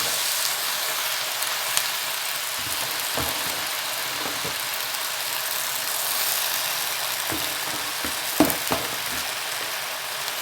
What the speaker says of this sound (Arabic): كيبداو التشحيره كتبدا تشحر فيهم كيبداو يدبالوا